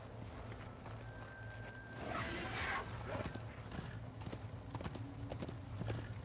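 Horse hooves clip-clop in a steady walking rhythm in the video game Darksiders 2, fairly soft and close, with a faint snort partway through.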